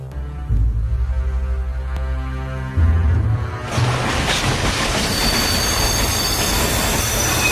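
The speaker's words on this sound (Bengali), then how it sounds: "স্টেশনে ট্রেন থামতে না থামতেই যাত্রীদের মধ্যে হুলস্থুল বেঁধে গিয়েছিল" A train pulls into a station as a radio drama effect: a deep rumbling engine hum gives way to loud, sustained wheel squeal and dense metallic clatter of the carriages rolling close by.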